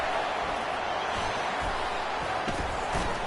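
A college football video game stadium crowd roars in a dense, constant wash of cheering that stays loud and unbroken throughout.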